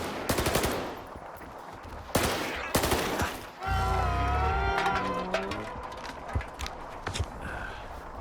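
Automatic gunfire from the GP37 rifle in the Stalker 2 video game on PS5 Pro: close, loud bursts of rapid shots in the opening seconds, followed by a wavering creature-like game sound and scattered thuds.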